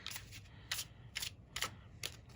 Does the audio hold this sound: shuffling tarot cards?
yes